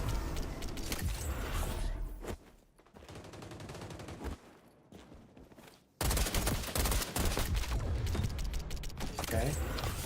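Rapid XDefiant gunfire crackles and clatters in bursts with mechanical clicks, dropping into a quieter lull before loud firing resumes abruptly, and a voice speaks over parts of it.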